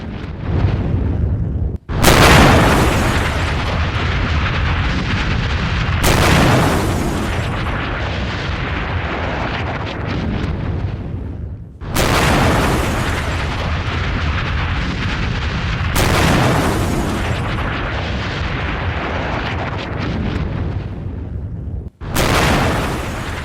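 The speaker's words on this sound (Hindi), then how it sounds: "कई किलोमीटर दूर तक धमाके की जोरदार आवाज, ये जो ब्लास्ट हुआ, सुनी गई।" Massive explosions from a US airstrike in Venezuela roar out as several long, loud booming blasts, each breaking off abruptly before the next rumbling detonation follows.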